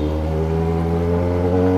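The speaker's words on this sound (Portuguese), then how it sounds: "Ó, o teste da buzina, ó," A car horn blasts in one loud, sustained, unbroken tone lasting nearly two seconds, close by and alone, during a horn test from a diesel Saveiro pickup.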